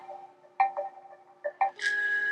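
A bright, cheerful chime alarm tone from the Eight Sleep app's 'happy' setting, a few soft plucked notes rising into a sustained, shimmering tone at the end, clear and close with no talking.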